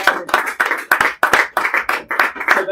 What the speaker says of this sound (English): let's have one last round of applause for Nam.